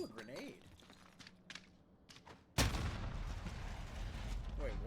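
In a Modern Warfare video game, a grenade goes off with a sudden loud blast that leaves a long rumbling roar. Scattered gunfire and small clatters come before it.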